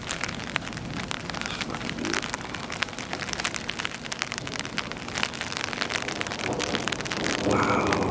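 A thunderstorm with rain in Wyandotte, steady close rain pattering on surfaces and an umbrella, with a distant rumble in the background, and someone speaks briefly.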